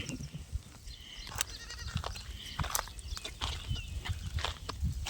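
A goat bleats several times in short calls, with light rustling and shuffling around it.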